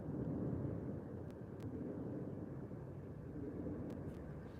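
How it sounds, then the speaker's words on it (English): A deep, continuous roar of jet engines rumbles steadily overhead, broad and heavy, with a few faint clicks scattered through it. "Hell yeah, I hear jets."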